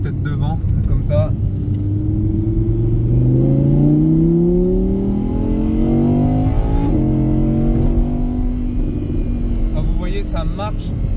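An Audi R8 engine revs and accelerates up through the gears, a loud, rising exhaust rumble with a shift partway through, close by and steady throughout.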